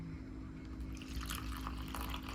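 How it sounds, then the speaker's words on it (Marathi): Water poured into a small hand-dug well in a village makes a quiet, continuous splashing flow over a low steady hum, faint and close, with no talking. "मग हिरीत पाणी वतायचं."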